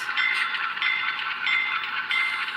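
A small model train locomotive runs with a soft, steady whirring hum and faint mechanical clicking, quiet and continuous.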